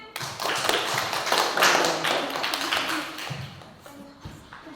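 A classroom of students claps hands in a dense, steady burst of sharp, close, fairly loud claps that eases slightly toward the end, with faint voices in the background.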